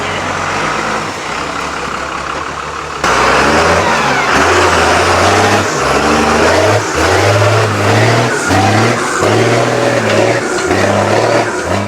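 An off-road 4WD, an LS-swapped 4Runner, climbs a rocky step on a winch line in Tasmania, its engine revving hard in loud, repeated surges that rise and fall close by.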